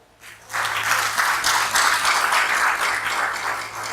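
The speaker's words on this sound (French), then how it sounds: "Je veux qu'on l'acclame" A church congregation bursts into applause for a man, starting after a brief quiet moment and building into steady, loud clapping that continues to the end.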